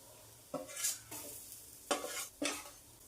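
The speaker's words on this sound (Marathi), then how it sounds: "दुसरी बाजू देखील मस्त शालो फ्राय झालेली आहे" Moong dal khichdi cutlets shallow frying in a pan, with four short bursts of stirring or turning that set off brief sizzles over a quiet background hiss, each loud for a moment and then fading.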